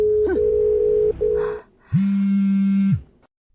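A telephone tone sounds after a call is hung up: a steady electronic tone broken by a short gap, then a brief pause, then a lower sustained beep that cuts off sharply, all close and clean.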